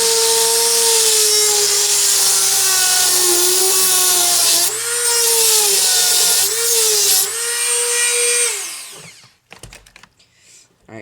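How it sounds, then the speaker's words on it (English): Power grinder cutting a washer off a steel conibear trap frame, a loud, close, high whine with shifting pitch as it bites into the metal, stopping abruptly with a few clanks afterward. "Alright, so you see I ground that washer right off."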